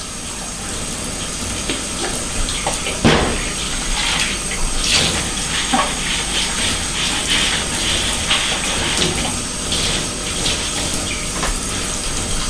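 Items being washed under a running kitchen tap in a sink in Japan, a steady rush of water with clinks and knocks of objects being handled, close and continuous.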